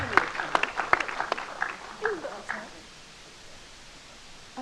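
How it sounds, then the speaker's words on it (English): An audience at a diabetes wellbeing talk applauds briefly, with scattered claps in the first couple of seconds that quickly thin out and fade to quiet room noise. "Would you give her a round of applause too?"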